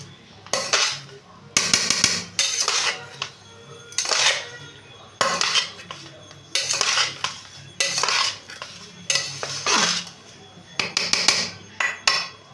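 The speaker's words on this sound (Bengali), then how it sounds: "এরকমভাবে ঘুরিয়ে ঘুরিয়ে আমি প্রত্যেকটা জিনিস ভালো করে মিশিয়ে নিচ্ছি" A metal spatula scrapes and clanks against a pan while egg fried rice is stirred and mixed, in loud, close bursts of clattering strokes with brief pauses between them.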